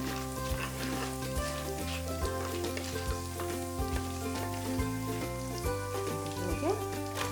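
Onions frying in hot oil spiced with black pepper, bay leaf and garam masala, a steady close sizzle with scattered crackles and stirring clicks throughout, no one speaking.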